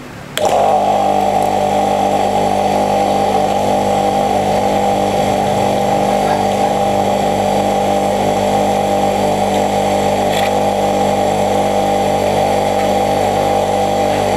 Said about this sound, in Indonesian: saya mau coba menyalakan jet cleaner Molar ini dengan tanpa menyedot air ya, hanya menyalakan mesin aja